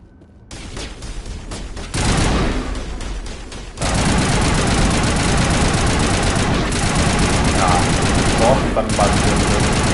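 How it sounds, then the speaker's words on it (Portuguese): Sustained automatic weapon fire from the sci-fi shooter Mass Effect, a dense, loud clatter that starts after a brief pause, jumps louder partway through and continues unbroken, with a voice speaking faintly beneath it. "Vou metralhar essa também."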